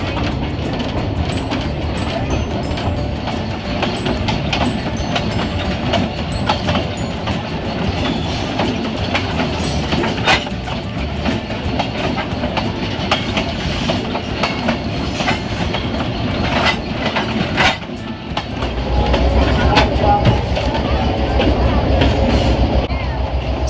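A heritage train at the Florida Railroad Museum, including a rebuilt Seaboard Airlines segregated coach, rolls through swampland with a steady clatter of wheels and car rumble that grows louder and heavier near the end.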